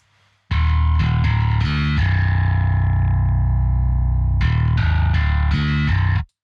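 Heavily distorted, effects-laden bass track from a prog drum mix, playing loud: a few short punchy notes, a long sustained note, then more clipped notes.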